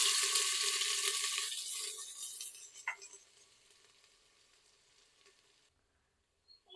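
Finely chopped onion sizzling in hot oil and ghee, a loud broad frying hiss that fades steadily over the first three seconds, with one sharp clink near the middle, leaving near silence.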